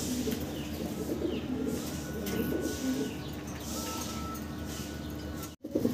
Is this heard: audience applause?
no